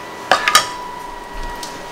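A baking dish of green chili and chicken smothered burritos is lifted out of the oven with a few quick metallic clinks and knocks, then a quiet kitchen hum.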